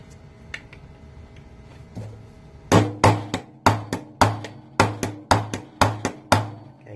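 A hammer drives a coil pin out of a Smith & Wesson Shield pistol slide, a run of about ten sharp, close metallic taps in a steady rhythm, preceded by a few fainter handling clicks.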